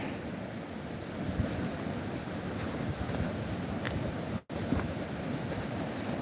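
Outdoor ambience by the Sacramento River: a continuous rushing wash of water and wind buffeting the microphone, fairly even throughout, with one brief dropout near the end and no speech.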